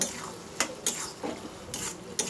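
A spoon stirs ridge gourd cooked with ground sesame paste in a pan, giving several distinct scraping knocks against the metal over a soft simmer.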